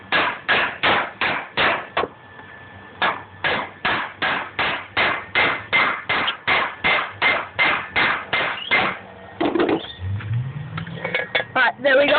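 Steady, repeated hammer blows driving a headset cup into a scooter frame, roughly two or three per second, ringing with a metallic knock close by, pausing briefly, then resuming with louder strikes.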